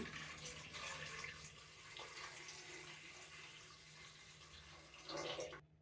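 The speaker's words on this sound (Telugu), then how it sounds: "ఈ కుక్కర్లో 1/2 లీటర్ వాటర్ పోస్తున్నానండి" Half a litre of water poured into an electric cooker, a soft continuous splash and trickle lasting several seconds, faint and close.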